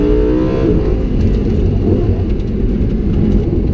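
A Lamborghini Huracan accelerating hard down a track straight, its engine a loud, close, continuous low roar with a rising whine, no voices over it.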